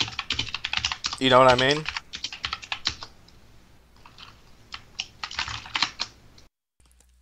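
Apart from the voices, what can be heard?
typing on a computer keyboard in the background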